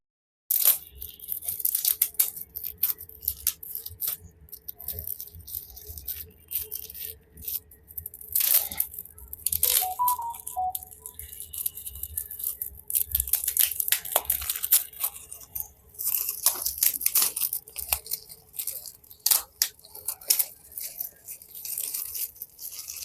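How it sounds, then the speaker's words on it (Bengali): Surprise anniversary gift being unwrapped, with dense close crinkling, tearing and crunching of wrapping that keeps going in busy bursts throughout. "চলো গিফটটা আনপ্যাক করে ফেলি"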